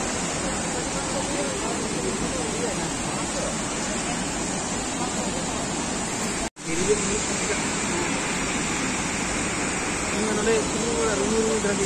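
Loud, constant roar of rushing water pouring down Dassam Falls near Ranchi, India, broad and steady, briefly cut out for an instant before resuming.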